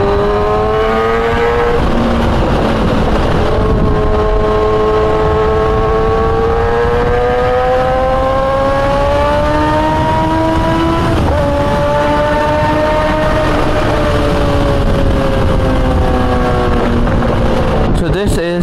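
Car traffic on Sheikh Zayed Road in Dubai, a steady engine drone with rising and falling revving tones that runs loud and continuous throughout, heard from inside a moving vehicle.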